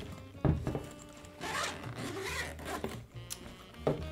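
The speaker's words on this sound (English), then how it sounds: "On the side of the bag, you'll find the zippers to the main compartment." Zipper on the side of a Samsonite luggage bag pulled open in several quick, rasping strokes, fairly close and clear, with a couple of soft thumps and no talking.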